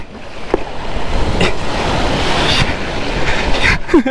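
Strong salt water rushes loudly and continuously around an Ola electric scooter submerged in the sea, a steady broadband wash with a few splashes and surges and no talking.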